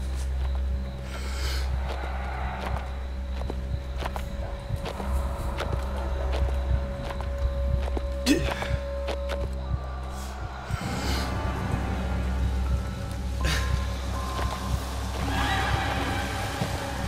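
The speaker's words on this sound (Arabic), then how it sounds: "في حمار هنا." A donkey in the horror video game Maid of Sker, braying and snorting amid hoof steps and game ambience, with a loud whinny-like call midway.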